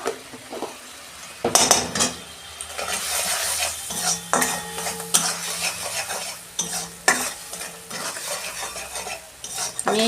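A paste of mustard, poppy seed and ginger with salt sizzles in a pan for shukto while a metal spoon stirs and scrapes it, giving repeated loud clanks against the pan over a steady fry.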